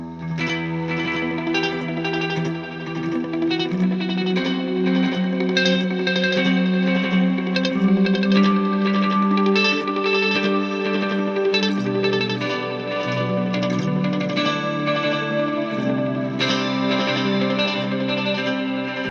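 Clean electric guitar played through a Morley wah, Boss SY-200 synthesizer pedal, and FM9 chorus, delay and noise gate, producing sustained shimmering chords and melodic lines with steady level and lush modulated ambience throughout, no voices.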